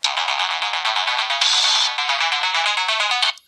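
A synthetic ringtone cut from a YouTube clip plays as a preview, a loud, bright electronic pulsing melody that runs continuously for a few seconds before stopping abruptly.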